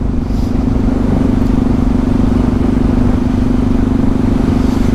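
A Yamaha MT-03 660 motorcycle drones steadily on a slightly slippery surface, its loud engine hum constant and close throughout, with no voices.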